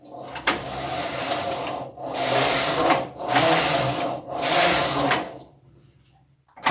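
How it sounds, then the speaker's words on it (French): A domestic knitting machine carriage sweeps back and forth knitting a few rows of waste yarn at a set stitch density, four loud rasping, whirring passes with brief pauses between, ending in quiet. "Nous allons tricoter avec le fil perdu quelques rangs."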